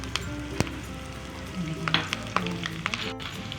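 Cumin seeds, black peppercorns and green chilies dropped into hot oil in a pan, crackling and sizzling quietly with scattered small pops and spits.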